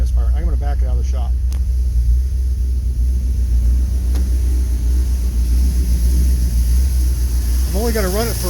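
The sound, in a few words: old black truck engine running with new fuel injection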